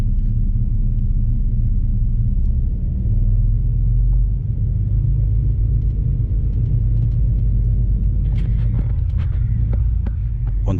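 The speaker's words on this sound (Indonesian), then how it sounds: "akhirnya bus kita diberangkatkan dari Terminal Arjosari" A bus engine rumbles low and steady, close and loud, as the bus pulls out of Arjosari Terminal in Malang, with faint clicks and rattles rising near the end.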